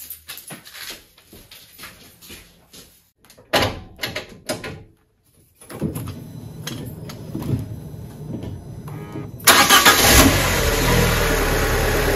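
A Fiat Panda's car door clunks and knocks, then its engine cranks, catches and revs up, settling into a loud steady idle after an oil change.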